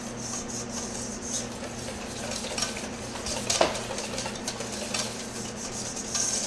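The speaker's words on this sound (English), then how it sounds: "Just make sure you scrape around the bowl constantly, as the flour likes to get stuck there in little clumps." Spaetzle batter is stirred and scraped around a bowl with a utensil, a steady soft scraping and clinking that runs throughout, with a brief louder knock of the spoon against the bowl partway through and no talking.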